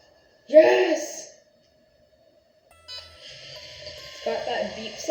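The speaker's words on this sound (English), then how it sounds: "Got that beep sound we coded in." A short electronic beep programmed into an EV3 robot sounds near the start, followed by a pause, then a sustained tonal whir and a person's cheer.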